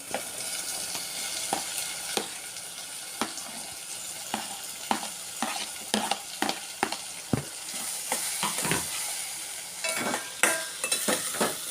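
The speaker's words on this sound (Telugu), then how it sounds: "ఇది బాగా కలుపుకొని కొంచెం సేపు తిప్పుకోవాలి." A spoon stirs cucumber pieces through dry fish curry in a hot pan, scraping in a steady series of close, distinct strokes over a continuous sizzle of frying, with no one talking.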